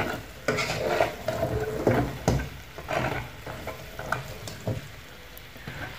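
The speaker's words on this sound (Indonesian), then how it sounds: "Diaduk-aduk terus hingga nanti gulanya akan kering dengan sendirinya." Sugar is stirred in a pan over a low flame, a utensil scraping and tapping against the pan in irregular strokes with a soft sizzle underneath, close and fairly loud.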